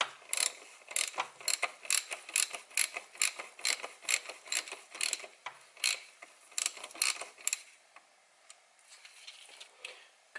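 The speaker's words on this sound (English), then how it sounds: "Got it started with the ratchet," A hand ratchet clicks rapidly in repeated bursts while loosening the oil filter cartridge on a BMW i8, with crisp close pawl ticks that grow fainter and sparser toward the end.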